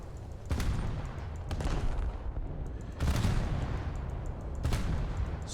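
The 12-inch cannons of the USS Alaska in War Thunder fire in heavy salvos, with three or four loud booming blasts spaced across a continuous rumbling background of battle noise.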